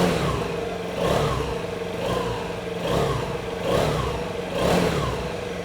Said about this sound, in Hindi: थोड़ा सा इसको रैप करते हैं।